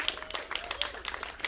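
A short burst of scattered hand clapping, light and somewhat distant, like a small group applauding.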